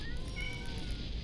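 A cat meows a couple of times in the video game Cat Museum, soft and fairly quiet over a steady low background hum.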